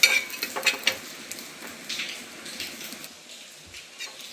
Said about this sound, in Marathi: त्याच्यानंतर आपण हरभऱ्याची डाळसुद्धा भाजून घेणार आहे लालसर प्रमाणामध्ये.